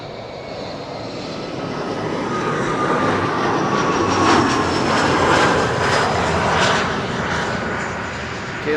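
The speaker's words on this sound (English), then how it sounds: "KLM Embraer 175, flight 1662, arriving from Bologna." A KLM Embraer 175 jet landing at Schiphol, its engines a loud, broad roar that swells toward the middle and then eases slightly, close and alone without talk.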